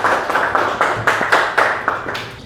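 Students in an Indonesian sociology classroom clap together in a quick, even rhythm, each sharp burst close and moderately loud, about four per second over a couple of seconds.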